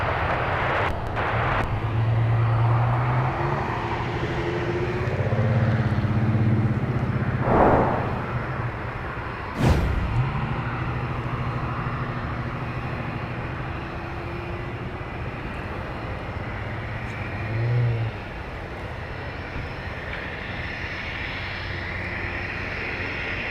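An American airliner taking off from a runway at MSP airport, its jet engine roar building loud and steady, sustained throughout with some radio chatter and brief thumps, then a long rumbling departure.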